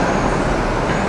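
Electric RC touring cars racing on an indoor carpet track make a dense, loud, continuous buzzing whir of many motors together, close by.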